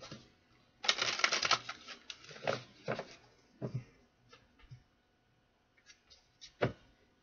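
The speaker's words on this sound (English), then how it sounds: "One more shuffle." Quick papery riffling and soft slaps of tarot cards being shuffled close by, a dense flurry at first, then scattered taps.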